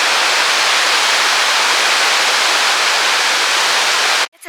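A waterfall in western Iceland spilling beneath a rock ledge, heard as a dense, steady hiss of falling water, loud and unbroken, until it stops abruptly near the end.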